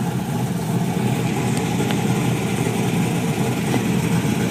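A freshly started Chevrolet SS idles a little rough while still cold, giving a steady close engine rumble with small irregular pulses and no talking.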